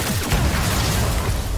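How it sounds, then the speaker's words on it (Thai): An explosion in the video game Cyberpunk 2077 fills the moment with a loud, dense roar and low rumble that holds steady for about a second and a half. "โอ้โหระเบิด"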